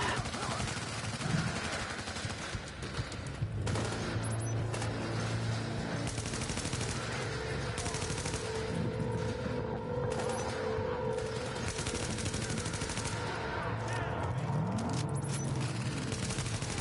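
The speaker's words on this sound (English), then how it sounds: "I heard gunshots, but I didn't see any guys." Sustained gunfire from the video game Tom Clancy's The Division, with bursts of rifle and automatic fire running continuously through the scene at a steady, fairly loud level amid game ambience.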